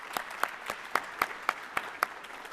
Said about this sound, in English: So let's give this folks a round of applause as well.